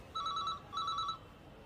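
A telephone rings twice in quick electronic trills, each burst about half a second, faint and steady against low background hiss with no talking.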